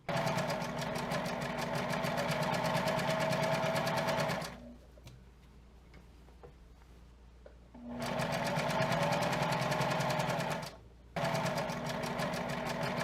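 Sewing machine running long ruffling stitches through skirt fabric for an Edwardian summer skirt, two steady bursts of loud continuous whirring separated by a quiet pause and a brief stop, no talking.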